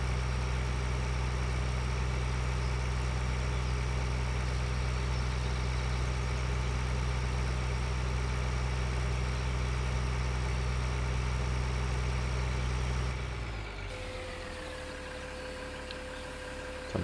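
A Farming Simulator 2013 tractor engine idles in a steady, even low drone for most of the stretch, then drops abruptly to a quieter, thinner hum near the end; no talking.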